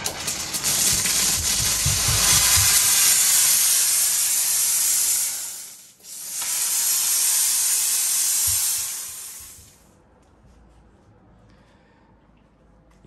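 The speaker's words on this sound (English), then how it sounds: "It's a commercial steam cleaner." A commercial 240-volt steam cleaner with built-in vacuum blasts steam onto the exterior of a 2020 Ford Edge: a loud, steady hiss in two long bursts separated by a brief break, then cut off to near quiet.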